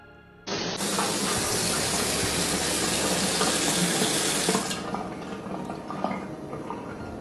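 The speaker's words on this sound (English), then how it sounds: "The water just came on." Water suddenly starts gushing from a tap, a loud steady rushing stream that continues evenly, easing slightly toward the end.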